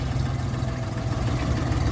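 Jinma 244 LUX three-cylinder, four-wheel-drive compact tractor idling, a steady low diesel rumble throughout with no speech.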